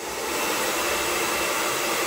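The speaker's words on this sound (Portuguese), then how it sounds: "Deixa o secador aí reto. Vou ligar, vai, liga aí que eu solto a bolinha." A hair dryer, switched on and held pointing straight, blows with a steady, loud, broadband whoosh for the whole stretch, close and alone.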